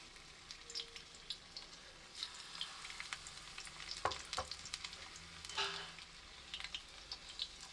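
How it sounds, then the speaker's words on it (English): Prawns for tempura deep frying in a shallow amount of oil in a pan, a faint continuous crackling sizzle with scattered pops and a few louder spatters, close by and without talk. "To maintain the temperature, you can only deep fry 1 or 2 prawns at a time."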